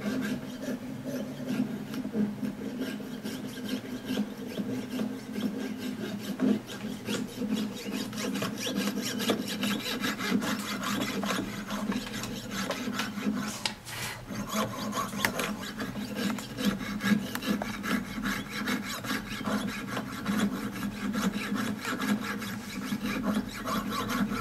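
A saw cutting through a piece of wood with steady back-and-forth rasping strokes, close and continuous for the whole stretch, with no talk over it.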